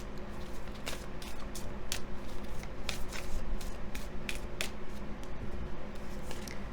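Oracle cards being shuffled in the hands before a tarot reading, with quick repeated riffling and soft card slaps close by, steady and fairly quiet throughout, with no talk.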